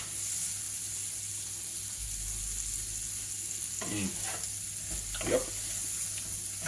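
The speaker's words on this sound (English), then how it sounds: "for the green beans, I went ahead, after they sauteed a little bit, softened, added a little bit of water, put the lid on so it would steam a little bit" Green beans in a covered pan with a little added water, steaming and sizzling in a steady hiss, broken by a couple of clattering stirs or lid movements, with a brief word spoken.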